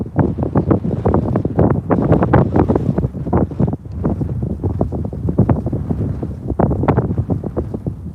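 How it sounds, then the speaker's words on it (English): Strong wind buffeting the microphone outdoors by a railway in Minnesota, a continuous loud rumbling roar with gusty fluctuations and no talk. "hide from the wind"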